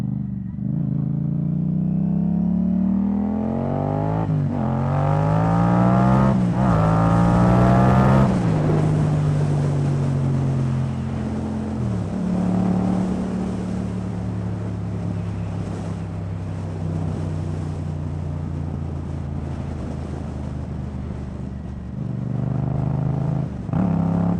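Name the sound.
Yamaha FZ-07 motorcycle crackling exhaust before tune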